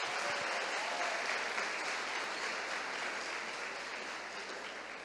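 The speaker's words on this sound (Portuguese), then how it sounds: "vamos aplaudir o Senhor por isso" A church congregation applauds together, a steady wash of clapping that stays even and gradually softens toward the end, with a low hum underneath.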